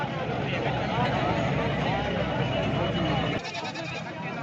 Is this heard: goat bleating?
yes